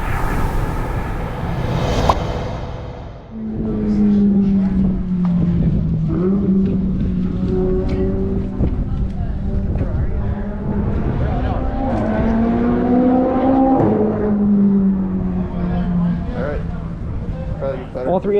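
Dodge Charger SRT Hellcat drifting on a track ride-along, its engine roaring loud and steady with rising and falling pitch after a brief opening burst, while people talk over it.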